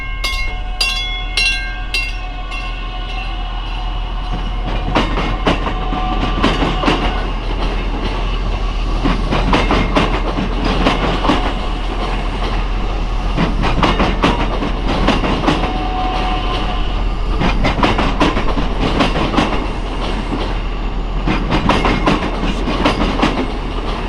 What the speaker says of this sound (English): in typical commuter fashion, a very short time later, it departed